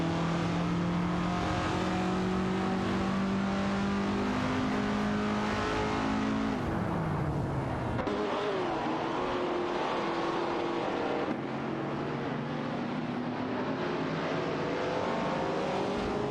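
Race cars from a racing video game roar continuously, engines droning and shifting pitch as they pass and jostle, loud and sustained with no talk, featuring cars such as an Alfa Romeo and a Chrysler Valiant Charger.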